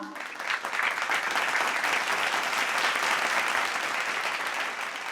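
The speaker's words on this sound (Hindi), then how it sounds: "जोरदार ताली बजाइए" Sustained audience applause for a children's school performance at an evening stage event, dense and steady clapping from a large crowd that swells in after a brief start and holds loud throughout.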